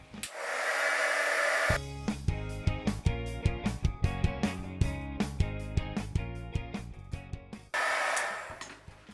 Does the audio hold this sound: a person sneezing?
no